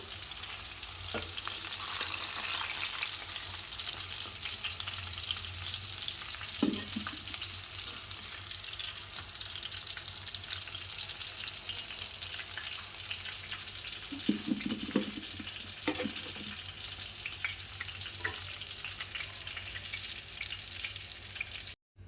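Brinjals (eggplants) fry in hot oil with a steady, close sizzle and crackle that runs the whole time, with occasional soft stirring knocks and no talking.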